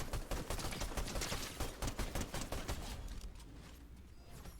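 Rapid gunfire in Fortnite, a dense volley of sharp shots at a fast, steady rhythm that thins and fades toward the end, fairly loud with no clear talk over it.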